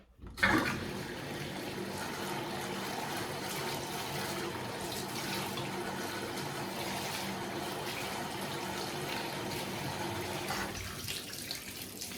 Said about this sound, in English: just rinse the wig with cold water